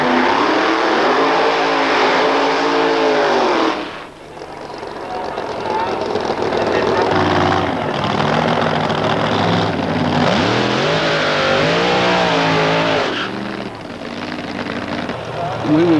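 Drag-racing Ford Falcons roar at a 1990 Australian Wild Bunch event: a Keith Black powered XE Falcon and a 351 Cleveland powered XA Falcon hardtop. Loud, sustained engine revving rises and falls, with brief dips, under continuous commentary.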